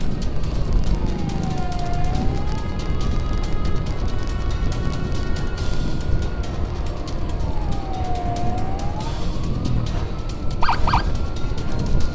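A long ambulance siren wails, sweeping slowly up and down over steady traffic rumble, with a brief bright tone burst near the end.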